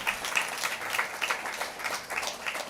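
A church congregation applauds together in a sustained round of clapping, with dense, uneven bursts of handclaps that swell and ease over a few seconds.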